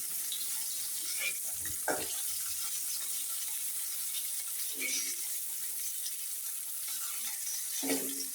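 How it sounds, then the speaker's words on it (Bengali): Koi fish frying in a wok while being turned, a low steady sizzle broken by a few clunks and scrapes of a utensil against the pan. "মাছটা আমি উল্টে পাল্টে ভালোভাবে ভেজে নিতেছি"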